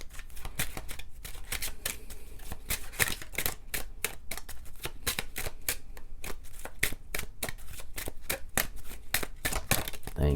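Tarot cards being shuffled by hand, a steady run of crisp riffling snaps and flicks close up, continuing without pause.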